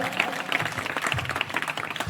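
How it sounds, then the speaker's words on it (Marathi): An audience at a community function at Shri Saidham Mitra Mandal in Chapheri Khandala gives hearty applause. Dense, continuous clapping from many hands sounds loud and close for the whole moment. "पुन्हा एकदा तुमच्यासाठी जोरदार टाळ्या"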